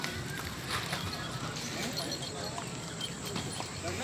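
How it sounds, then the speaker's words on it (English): Horse hooves clip-clopping steadily during a horse ride near a park in Islamabad, a dense rhythmic patter under constant talk and outdoor noise. "Everyone is getting on a horse."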